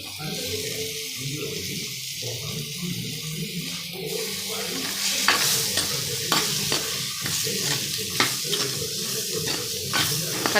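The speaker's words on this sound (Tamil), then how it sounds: "இந்த கத்திரிக்காயும் நல்லா வதங்கணும் அந்த எண்ணெயிலேயே." Eggplant pieces stirred and sautéed in hot oil for a tamarind curry with broad beans, giving a steady background sizzle with repeated sharp spoon or ladle scrapes against the pan, growing busier partway through.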